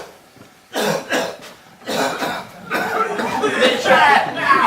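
Several short, breathy coughs come in bursts, mixed with chuckling and a voice talking over them.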